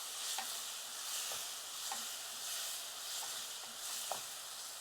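Something sautés in a pan on a medium flame with a faint, steady hiss, broken by a few soft, evenly spaced spatula stirs, heard close and quiet with no speech.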